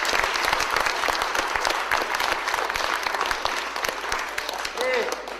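A lecture audience in Ormersviller applauds a speaker with steady, dense clapping that fills the room from start to finish, a brief voice cutting in near the end.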